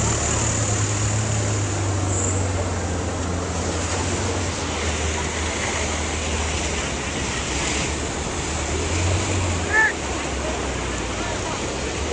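Flood water flowing into a village makes a steady, loud rushing wash, with faint voices and a brief bump near the end.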